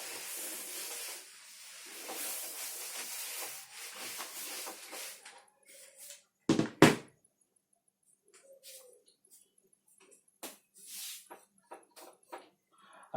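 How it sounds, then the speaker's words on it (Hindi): A duster rubs out writing on a classroom board during a physics lecture, a soft scratchy swishing in uneven strokes for several seconds, followed by a couple of sharp knocks and quieter scattered rubbing, with no speech. "इसको मैं रब कर रहा हूँ"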